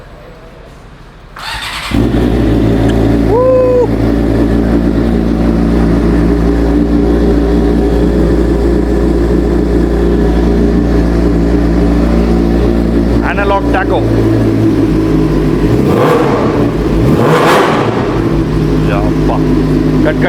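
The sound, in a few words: modified exhaust of a 600 cc vehicle revving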